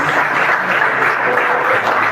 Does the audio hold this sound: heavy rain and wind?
no